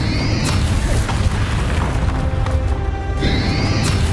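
Bombarda explosion spell blasting during a dragon fight in Hogwarts Legacy, a loud booming burst with crashing debris that rumbles on steadily across the moment, dense and close.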